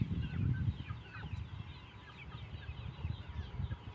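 Chickens cluck softly nearby in a quiet outdoor setting, with short, irregular low clucks and a few higher calls scattered through the stretch and no talking.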